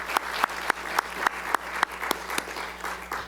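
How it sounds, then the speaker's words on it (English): A modest audience gives a round of applause at a museum event honoring Black History Month: a sparse, distinct patter of individual claps with slightly irregular rhythm, fairly close. "Let's please give them all a round of applause."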